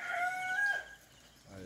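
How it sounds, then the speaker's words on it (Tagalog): A rooster crows once in a rural Philippine province at Infanta, Quezon, before dawn, a drawn-out call at moderate distance that fades into quiet outdoor ambience. "Ayan, may tumitilaok ng manok"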